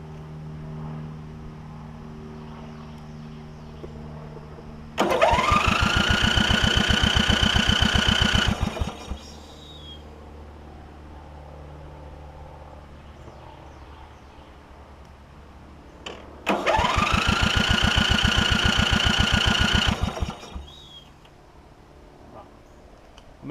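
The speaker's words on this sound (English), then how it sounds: "I'm going to see if I can get it to start, and it'll take some cranking over" Briggs & Stratton engine on a Craftsman lawn tractor with carburetor trouble, heard in two loud bursts of several seconds each, separated by a quieter stretch of low rumble.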